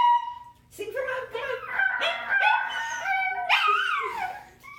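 Two dogs howl together in long, wavering, rising and falling notes that start after a short pause and fill most of the moment, close and fairly loud, with someone faintly talking beneath.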